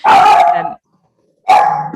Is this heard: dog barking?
yes